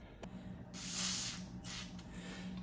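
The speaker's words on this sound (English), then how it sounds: "We're adding WD-40" WD-40 sprayed onto a workpiece held in a vise, short hissy bursts of aerosol spray over a steady low machine hum.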